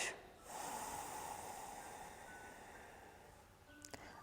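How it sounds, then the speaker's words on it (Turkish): A single long, deep human exhale of breath close up, steady and airy, fading toward a brief sniff at the end, during a breathing exercise. "3 derin nefes alıyoruz."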